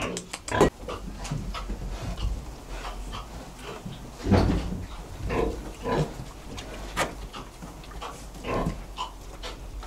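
Pigs grunting and snuffling while being fed in a farm pen, close and intermittent with sharp knocks and scrapes of feed and trough between the grunts.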